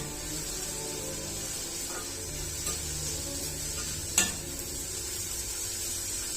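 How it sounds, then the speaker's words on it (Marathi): Two large onions sautéing in oil toward golden brown give a faint, even sizzle with a couple of light stirring scrapes and one brief knock, heard close with no talk. "त्याच तेलात मी ना मोठे 2 कांदे घेतले, ते आता छान परतायला टाकले"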